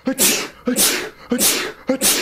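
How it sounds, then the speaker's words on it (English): Four quick sneezes in a row, loud and close, each a short sharp burst with a breathy tail, evenly spaced. "the infinity sneeze."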